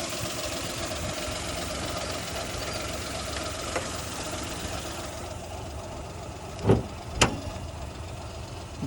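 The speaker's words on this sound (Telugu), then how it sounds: "ఎప్పుడన్నా ఈ నాయిస్ విన్నారా ఇంజిన్ నుంచి మీరు?" A Suzuki 800 car engine with about 65,000 km runs at idle with an irregular knocking noise, a steady mid-low drone with a couple of sharp clacks near the end.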